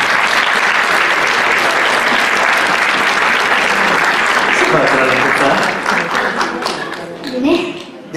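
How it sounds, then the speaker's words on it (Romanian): An audience at a televised singing event applauds steadily for a guitar-playing contestant, a dense continuous clapping that thins out near the end as voices begin to talk over it. "Aplauze pentru Raluca!"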